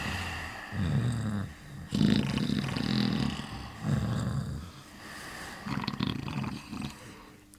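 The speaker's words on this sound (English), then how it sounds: "The sound of snoring filled the rancid air." Several dirty children asleep on low wooden beds in a workhouse snore in slow, repeated rumbling breaths, each drawn-out snore separated by short pauses, fairly close and alone.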